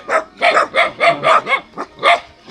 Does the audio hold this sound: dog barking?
yes